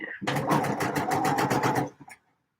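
Sewing machine stitching two pieces of shirt fabric right sides together, a loud steady run of rapid needle strokes for nearly two seconds before it stops, with a voice talking over it.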